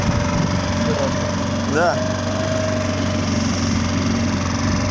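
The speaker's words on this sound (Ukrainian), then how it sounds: "Идем на холостых. Мотор не греется, отлично все." Tohatsu 3.5 outboard boat motor idling during break-in on the water, a loud, steady mid-pitched drone running without pause as someone speaks briefly in Russian and another voice answers.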